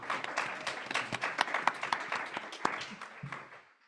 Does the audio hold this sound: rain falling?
no